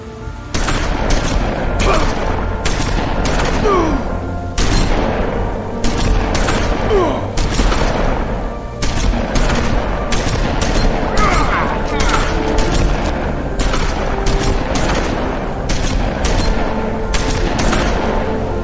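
Rapid shotgun blasts and other gunfire in The Wolf Among Us video game, loud dense bursts of sharp booms repeating throughout with hardly a pause, with a voice faintly mixed in.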